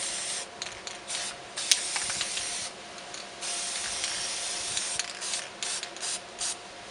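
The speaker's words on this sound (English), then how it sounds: "And now I'll spray paint this side as well." Aerosol spray paint hisses onto an animal-figure jewelry dish in repeated close, loud bursts of varying length separated by brief pauses, with no talking.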